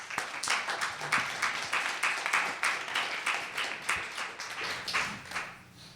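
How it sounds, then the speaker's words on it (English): Applause from a conference audience welcoming a keynote speaker on the international refugee crisis, a moderate, rhythmic clapping that stays fairly even before fading toward the end. "let's give a round of applause for our distinguished guest"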